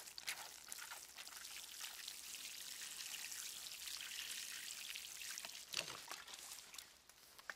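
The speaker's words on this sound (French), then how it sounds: "Un coup d'arrosoir et ça devrait aller." Water from a watering can pours onto freshly planted soil around a goji plant, a steady, soft splashing trickle that runs continuously for several seconds with small drips near the end.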